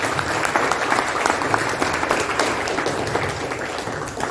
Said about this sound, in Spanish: quiero pedir un fuerte aplauso, merecidísimo aplauso para Pepe Rodríguez